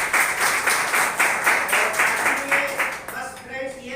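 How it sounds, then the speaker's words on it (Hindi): An audience claps for a woman at a gathering, the clapping coming in uneven bursts and then tapering off, with a voice starting to speak near the end. "तो एक बार मैडम के लिए जोरदार ताली।"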